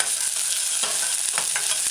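Diced scallions stir-frying in a pan on a medium-low stove for a vegan tomato stew, a steady close sizzle broken by a few scraping stirs, with no talk.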